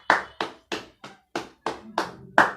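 A church congregation claps to acclaim Jesus Christ with about eight crisp, evenly spaced claps in unison, each sharp and separate with short silences between, close by and with no talk.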